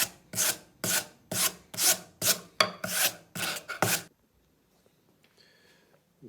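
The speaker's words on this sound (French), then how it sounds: "Lorsque ma lime devient trop encrassée, je vais la nettoyer avec la carde." File card scrubbing a clogged metal file after filing cellulose acetate, about nine rhythmic rasping strokes close by, then a quiet pause with faint small scrapes.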